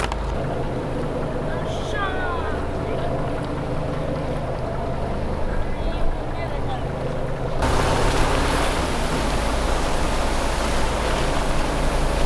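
A boat motor drones steadily under wind buffeting and water noise while following a rock lobster fishing boat off Kalbarri, growing louder and rougher toward the end.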